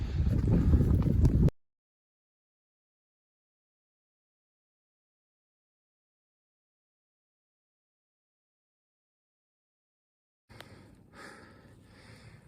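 Wind buffets the microphone on an Appalachian Trail mountain path near Cooper Gap as a brief, loud, low rumble. A long silence follows, then a fainter breathy hiss returns near the end.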